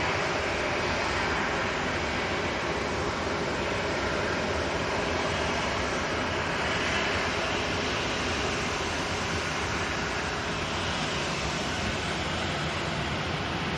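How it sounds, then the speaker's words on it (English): A Jet2 Airbus A330 air tanker taxis out, giving a steady, broad engine roar that stays fairly loud and even throughout with no voices. "Got a Jet2 A330 coming out. It's one of the air tankers."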